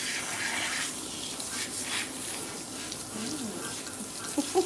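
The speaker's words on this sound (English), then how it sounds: "So I'm gonna turn the water to cool." Tap water running steadily in a salon wash basin while rinsing a client's hair, a soft continuous hiss of flowing water heard close with little else.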